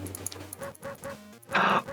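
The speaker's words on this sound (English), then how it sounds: "there's a dog running the shop" A dog in the shop of the video game World of Horror gives a series of short barks and yips in a rhythmic run, followed by a louder, noisier burst at the end.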